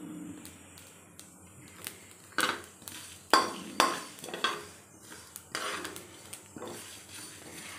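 Green and dried chillies with spices frying in a pan for a Telugu festival dish, with a steady faint sizzle under a series of metallic clinks and scrapes from a spoon stirring against the vessel.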